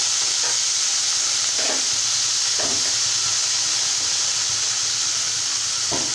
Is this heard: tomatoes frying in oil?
yes